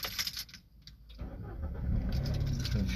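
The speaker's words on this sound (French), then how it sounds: "Il y a une voiture là" A car engine close by, heard as a low rumbling drone that builds and grows steadily louder, with some brief clinking early on.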